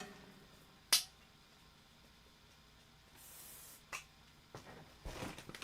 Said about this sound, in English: I am going to give this a little shot of spray just to make sure it doesn't slide around.